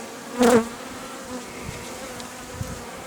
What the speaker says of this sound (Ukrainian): Тут тієї бджоли, тієї бджоли жменя